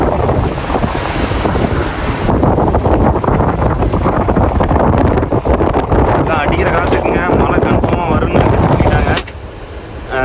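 Strong, roaring wind buffets the microphone continuously, with a steady rushing noise that eases slightly near the end.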